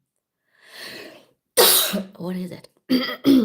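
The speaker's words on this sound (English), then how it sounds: "Why am I coughing?" A breathy exhale is followed by a sharp, close cough, and a person speaks briefly between the bursts.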